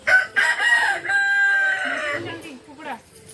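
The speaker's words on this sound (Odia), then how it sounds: "କୁକୁଡ଼ା" A village rooster crows loudly and close by in one long drawn-out call, with faint voices and clucking near the end.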